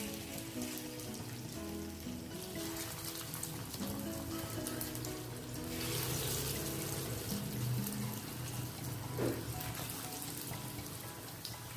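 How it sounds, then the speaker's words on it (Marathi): Alu vadi (rolled colocasia leaf slices) frying in hot oil in a pan, a steady close crackle and sizzle that runs throughout without pause, with no one speaking. "तर आपल्याला आता या छान फ्राय करून घ्यायच्या आहेत"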